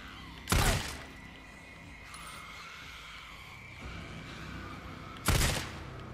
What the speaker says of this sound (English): Time to shoot them.